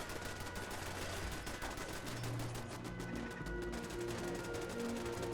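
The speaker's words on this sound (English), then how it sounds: "look at the shotgun turret at the back gate just wailing away at him" A shotgun turret in the video game Fallout 4 fires without letup, its rapid blasts blending into a dense, continuous barrage with a low rumble beneath, loud and sustained throughout with no pauses.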